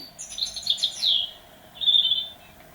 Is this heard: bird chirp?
yes